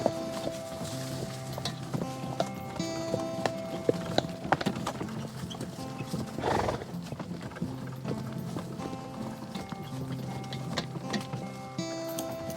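A horse walking a forest trail, its hooves clip-clopping in a steady rhythm on the ground, close and fairly quiet, with faint rustling and a brief voice.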